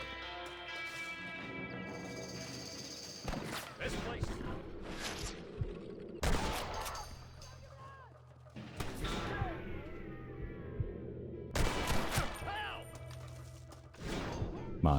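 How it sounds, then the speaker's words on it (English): Gunshots in Red Dead Redemption ring out as several loud, sharp, spaced shots with echoing tails over game ambience, while someone talks between them. "how about I just shoot a few of them?"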